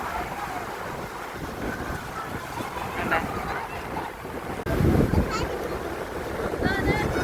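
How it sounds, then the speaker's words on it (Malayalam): Sea waves breaking at Cherai Beach in the evening, a continuous broad wash of surf and wind buffeting against the microphone, with a louder surge partway through. "ചെറായി ബീച്ചിലുണ്ട് ഞങ്ങൾ."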